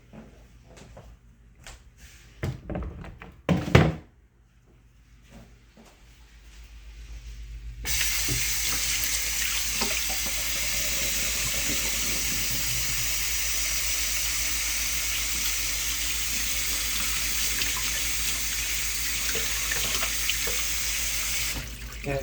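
Tap water pours steadily into a sink for washing hot Italian sausages, starting after a few brief clatters and knocks, then running loud and continuous with a broad hiss to the end.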